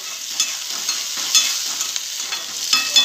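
A potato and pea curry is stirred in a frying pan: short spoon scrapes and soft taps repeat over a low, steady sizzle.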